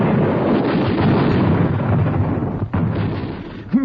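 Machine gun firing as a 1943 radio drama sound effect: a loud, dense, continuous rattling roar that runs for about four seconds, with a brief dip near the end.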